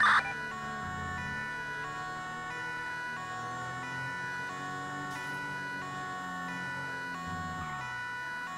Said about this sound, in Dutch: de ambulance komt er nou aan